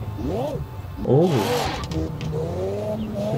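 A Lexus LFA engine in Forza Horizon 4 revs in quick rising and falling sweeps, then holds a steadier climbing drone, with game audio playing throughout.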